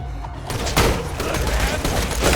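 Dense burst of gunfire and explosions from the video game Borderlands 2, loud and continuous rapid shots layered with booming blasts.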